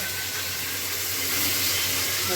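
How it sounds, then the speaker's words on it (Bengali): Onions sizzling in hot oil with cumin seeds and garam masala, a steady broadband frying hiss with no talk over it. "জিরে ফোড়ন দিলাম, গরম মশলা দিলাম, পেঁয়াজ দিলাম"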